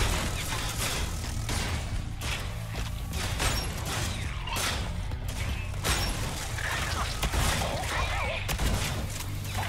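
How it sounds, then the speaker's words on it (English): Shotgun blasts in the video game Sentry, fired in a rapid string of sharp, loud reports mixed with mechanical clacks of reloading, with a voice talking faintly underneath. "Shotgun is pretty good."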